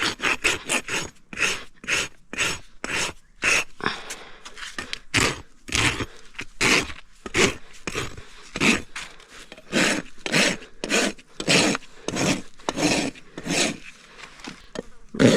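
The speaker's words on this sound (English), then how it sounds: "Come in here and finish this bevel now with my rasp." A rasp files the bevel of a horse's hoof in quick, regular rough strokes, each a sharp scraping burst, close and loud throughout.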